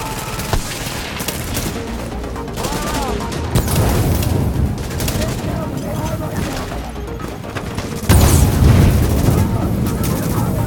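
Turret gunfire in The Division, with rapid bursts of shots and heavy booms that come loud and close over about ten seconds, mixed with voices talking.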